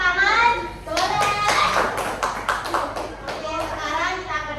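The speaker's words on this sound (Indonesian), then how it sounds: "Boleh tepuk tangan?" Children in a classroom clap their hands in a quick burst of a few seconds while voices talk over and around the clapping.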